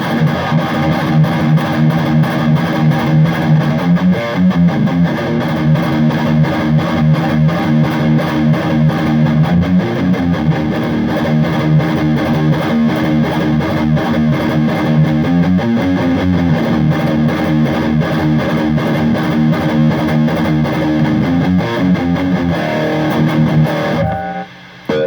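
A distorted electric guitar plays tight, loud chugging riffs and triplets through a TC Electronic Sentry noise gate, with palm-muted rhythmic bursts repeating steadily before stopping cleanly at the end.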